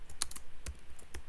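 Fast, light keystrokes on a computer keyboard tap out a short irregular burst of about eight presses, close and clear, with no talking.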